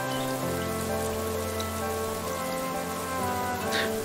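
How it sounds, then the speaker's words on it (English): Steady rainfall in the meditation game Playne patters on surfaces, a soft, even hiss of droplets with a low ambient drone beneath, unbroken for a few seconds. "see if we can spot the rain closer"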